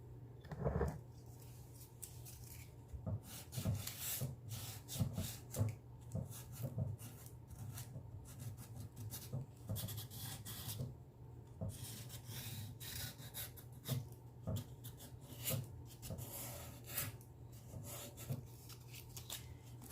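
Sandpaper rubs back and forth across a chalk-painted wooden side table to distress it, a steady rasping scrape in short repeated strokes that continues throughout at close range.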